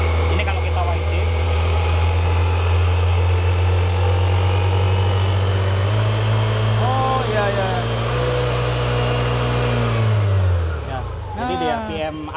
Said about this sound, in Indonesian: Putaran mesinnya ditahan di RPM tertentu biar teriak.